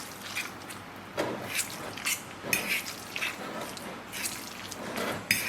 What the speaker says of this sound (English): make sure it's really well stirred.